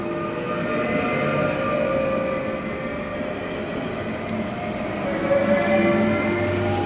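A Danish IR4 electric train, type 09 with red doors, rolls past steadily and loudly for the whole stretch, its even rumble and hum holding without a break and swelling slightly near the end.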